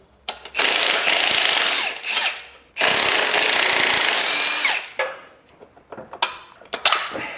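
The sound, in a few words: removing upper wishbone from BMW 850i suspension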